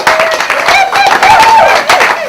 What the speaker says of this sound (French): que je vous demande d'applaudir très très fort pour elle